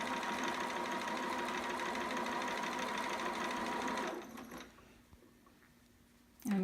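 A sewing machine sews a romper with a loud, steady, even hum for about four seconds. It then stops, leaving quiet background with faint handling sounds.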